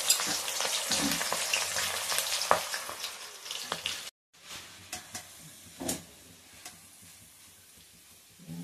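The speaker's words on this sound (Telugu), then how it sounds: "మసూర్ దాల్ మంచిగా వేగిపోయింది." Masoor dal frying in a kadai, a steady loud sizzle with stirring scrapes that briefly cuts out, then returns quieter with scattered clinks and pops.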